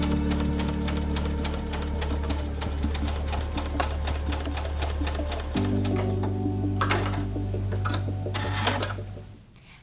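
A sewing machine stitches a quilt block to a Pellon square in a steady, fast mechanical whir with a rhythmic needle clatter. Its pitch shifts partway through, and the machine stops near the end, with no talk.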